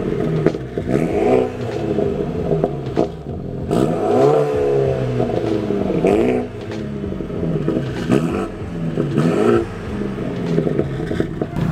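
A tuned BMW F30 engine revs hard several times in a row, each burst rising and falling in pitch, loud and close, with no talking over it.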